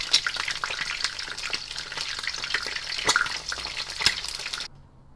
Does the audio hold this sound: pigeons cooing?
no